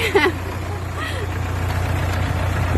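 An Iseki NT554 tractor engine idles with a steady, low, constant hum under a brief voice at the start.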